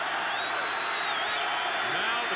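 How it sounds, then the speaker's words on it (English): Football stadium crowd at Notre Dame during a college game against Penn State, a steady broad roar of cheering filling the whole stretch, loud and continuous with a whistling tone rising above it. "Now the crowd is waking up."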